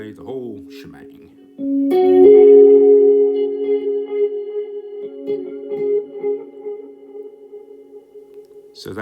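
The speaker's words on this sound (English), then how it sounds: "Now Galaxy reverb delay, the whole shebang." Electric guitar through a Sonulab Galaxy reverb with delays and chorus running in parallel: a struck chord swells into a thick, washy, echoing sustain with wavering repeats, with talking over the start and end.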